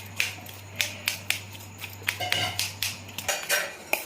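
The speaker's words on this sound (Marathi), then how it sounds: "मी थोडंसं असं चमच्यानं हे बारीक करून घेते" A spoon mashing roasted, broken-open eggplant for bharit, giving a string of sharp metallic taps and scrapes against the bowl at a roughly even rhythm, close and clear with no talk.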